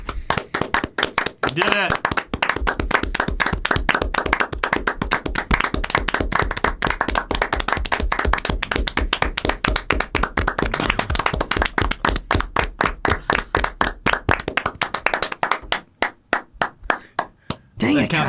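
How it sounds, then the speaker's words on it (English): A live studio audience at a Game of the Year 2019 debate show claps in a long, sustained round of applause, loud and continuous, briefly under a spoken voice, before thinning into scattered claps near the end. "Let's give a sincere, extended round of applause for all the developers who killed themselves making these games."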